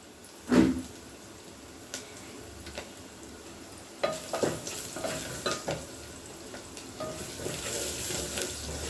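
Onions frying with turmeric in a pan for village-style upma, a soft low sizzle broken by sporadic stirring clinks and scrapes, close by, with no voices.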